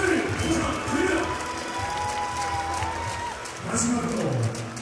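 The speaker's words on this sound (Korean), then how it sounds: "축하의 박수를 부탁드립니다." An audience applauds at a ceremony honoring baseball legends, with a steady wash of clapping that swells again near the end, mixed with faint background sound.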